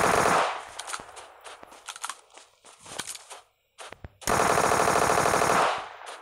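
Bursts of automatic gunfire from the video game PUBG, loud and close, with a dense opening burst, scattered shots and a long sustained volley near the end, no speech over it.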